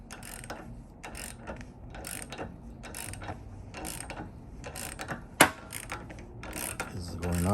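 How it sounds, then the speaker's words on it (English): A bushing removal tool works on a Honda crossmember, giving off repeated mechanical ratcheting clicks and creaks, with one sharp, louder snap partway through as the bushing breaks free. "As soon as you hear that click, that means the bushing is out."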